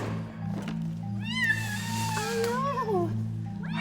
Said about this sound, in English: And Animal Health Officer Heather has just arrived with the 7 rescued cats from Dubai.